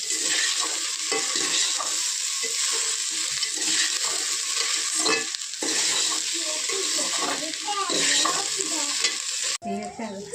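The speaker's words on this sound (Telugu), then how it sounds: "ఇప్పుడు మూత తీసి కలుపుకోవాలి. అంటే జస్ట్ ఫ్రై చేస్తుంది అంతే." Okra frying in oil in a pan is stirred, a constant loud sizzle with scraping of the spoon against the pan recurring throughout, then a sudden cut near the end.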